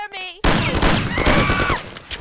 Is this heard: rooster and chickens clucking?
no